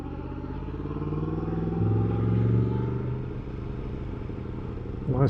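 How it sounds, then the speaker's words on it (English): Motorcycles pass by the lakeside at Wastwater in the Lake District, a steady engine rumble swelling to a peak midway and then easing off as the bikes move along the road, with no talk over it. "Lots of bikes."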